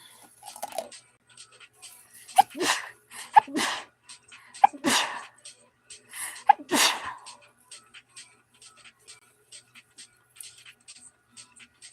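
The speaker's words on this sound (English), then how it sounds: "Feeling a sneeze coming on." Several sharp sneezes burst out one after another with short pauses between, close and loud against near silence and faint small ticking sounds.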